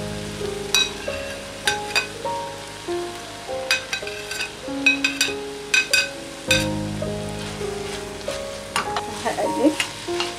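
Green pepper fries in a pan with lamb liver, Alexandrian style, giving a steady close sizzle broken by repeated scraping stirs; tonal music plays underneath.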